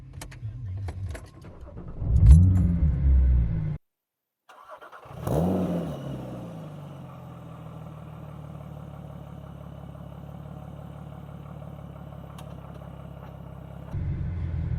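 A Porsche 987.2 Cayman fitted with a Top Speed Pro 1 exhaust cranks and fires up, a loud starter burst and rev settling into a steady, close idle that continues for several seconds.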